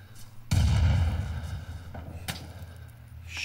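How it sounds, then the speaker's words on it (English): Gunfire in the video game Rising Storm 2 Vietnam: a heavy blast lands close and loud, followed by a rumbling tail and another sharp crack. Scattered fainter shots sound farther off. "somebody's shooting at us big time"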